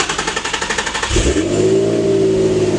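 A Nissan 350Z drift car with a modified, cut header runs close and loud, first a quick lumpy pulsing idle, then the engine revs up into a steady, sustained drone.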